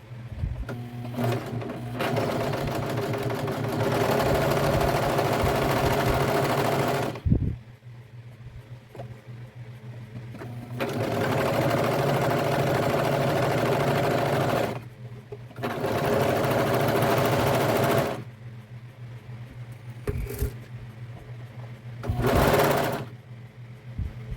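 A serger sewing machine stitches stretch fabric for a turban in bursts of steady whirring, running several seconds at a time with short pauses between runs, close and fairly loud with no talk.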